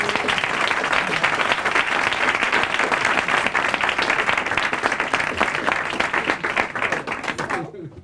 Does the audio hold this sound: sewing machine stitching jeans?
no